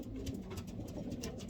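A racing pigeon coos softly and close by in a low, throaty warble, with a faint thin background hiss and no voices.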